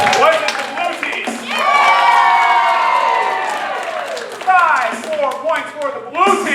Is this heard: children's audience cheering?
yes